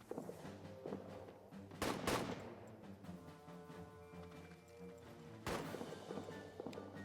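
Rifle shots ring out in All Quiet in the Trenches, a few sharp, fairly distant cracks spaced seconds apart over a low droning musical bed, quiet overall.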